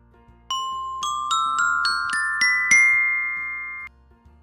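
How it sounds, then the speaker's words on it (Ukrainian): A rising run of bright xylophone notes struck one after another with mallets, each ringing on, with the final tone sustained before it stops abruptly. "Так, це звук ксилофона"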